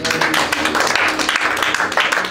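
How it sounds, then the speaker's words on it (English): A congregation at a Friday night deliverance, healing and prayer meeting claps together, a loud, continuous crowd roar of many hands that stays steady throughout. "Clap for Jesus."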